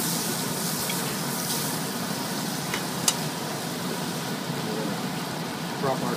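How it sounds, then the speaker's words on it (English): Butter and bacon fat sizzle in a hot pan ahead of frying shad roe, making a steady broadband hiss with an occasional sharp pop, while a person talks over it. "we're going to add some butter in there. Bacon fat and butter."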